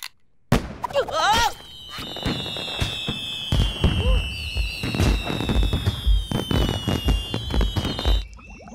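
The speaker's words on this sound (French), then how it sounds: "Des feux d'artifice? Des fusées?" Cartoon fireworks and rockets go off at a town party: a rapid series of sharp pops and bursts, whistling rocket tones sliding across the scene, and crackling explosions, with excited voices mixed in.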